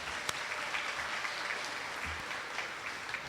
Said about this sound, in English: Oh yeah, we can clap